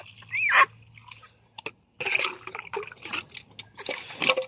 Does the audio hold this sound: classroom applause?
no